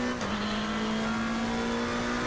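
A race car engine in a racing video game holds a loud, steady high-pitched drone, revving briefly at the start and then sustaining an even pitch.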